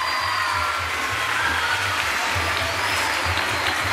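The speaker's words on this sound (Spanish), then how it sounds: "Un aplauso para el cumpleañero que es el Colegio Carmelo." Sustained audience applause in a school celebrating the 61st anniversary of Colegio El Carmelo in Cagua, dense and even from start to finish with a low steady hum beneath.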